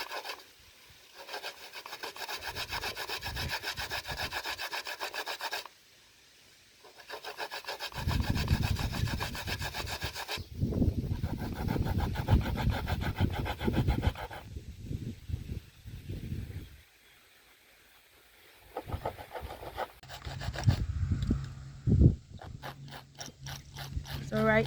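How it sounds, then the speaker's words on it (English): Coconut is rubbed hard against the finest side of a hand grater in long rasping bursts separated by short pauses, close and loud, with a voice talking at times. "I'll be using a grater, and you got to use the finest part of the grater, and we're gonna grate it all."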